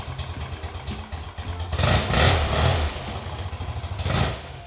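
Classic BMW R65LS motorcycle engine idling close by, a lumpy, uneven loping beat with a couple of louder blips of throttle, heard alone without talk.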